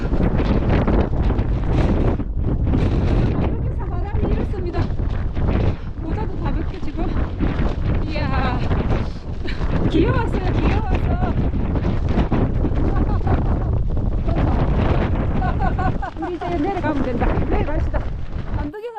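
Strong mountain wind on Deogyusan buffets the microphone in loud, continuous gusty roars, with people talking and laughing intermittently beneath it.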